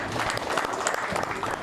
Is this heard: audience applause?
yes